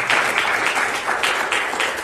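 A church congregation claps during a sermon, dense steady applause with a loose rhythmic pulse, fairly loud and close.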